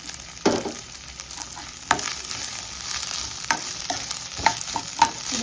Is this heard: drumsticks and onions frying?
yes